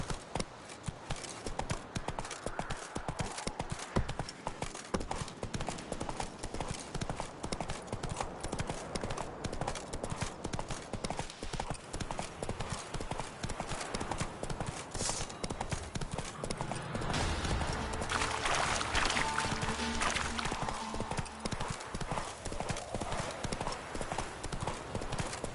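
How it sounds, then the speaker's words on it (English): The horse Roach gallops in The Witcher video game, a continuous rapid clip-clop of hooves throughout, steady and close, with a brief louder passage midway. "Run, Roach."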